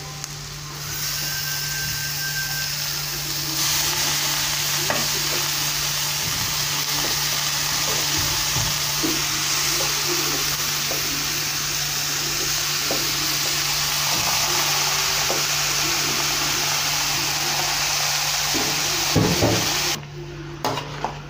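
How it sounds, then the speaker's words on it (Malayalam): Beef for curry sautés in a pan, about one kilogram of meat. A loud, continuous sizzle runs throughout, with scraping and knocking from stirring. No one speaks. "നമുക്ക് നല്ലപോലെ ഒന്ന് വഴറ്റാം. ഇളക്കി കൊടുത്ത് വഴിച്ചെടുക്കാം നമുക്ക്."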